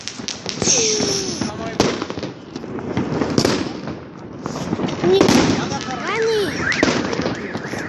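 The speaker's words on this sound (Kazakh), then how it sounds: "Міне осындай бір күшті салют." New Year fireworks burst in a dense series of booms and crackles, some with whistling trails, near and loud outdoors while people talk over them.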